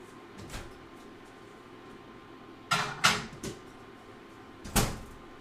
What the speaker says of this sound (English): I'm going to put it in the microwave